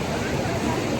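Rushing Ganges river water at Gangotri, a broad, steady roar of fast, icy glacial current close by, loud and continuous without a break.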